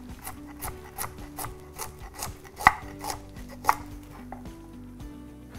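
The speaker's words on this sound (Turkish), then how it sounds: "Bunu da böyle tık tık tık tık doğrayabilirim." A knife chops mushrooms, chicken or green apple on a wooden cutting board in a home kitchen, a steady run of close, rhythmic taps with a couple of sharper knocks.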